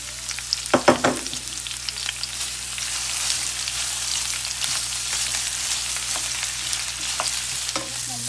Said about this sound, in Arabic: صار الزيت جاهز، راح نشوح البصل.